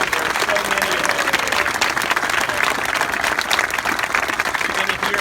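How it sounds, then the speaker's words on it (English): A large crowd claps continuously, a dense, even wash of applause at steady loudness throughout, with faint voices mixed in. "let's give a big round of applause"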